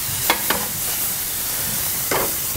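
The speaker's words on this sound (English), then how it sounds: "I'm going to take the fiddleheads that we already did, and I'm going to put them right into that same pan" Fiddleheads go into a hot pan already used for sauteing trout, giving a steady close sizzle with a few brief scraping stirs, no talk.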